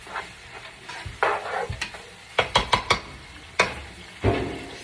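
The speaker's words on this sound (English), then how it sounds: "Stir up my noodles." Noodles stirred in a pan, a series of distinct scraping and clattering strokes, several in quick succession and then spaced out, close and fairly crisp over quiet background.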